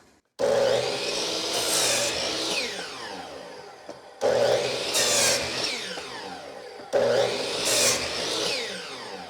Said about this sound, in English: So now we'll do the miter saw test.